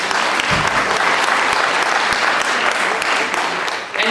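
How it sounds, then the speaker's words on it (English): At a film screening in London, Ontario, an audience gives a loud, dense round of applause, continuous throughout with a few sharper individual claps standing out near the front. "round of applause."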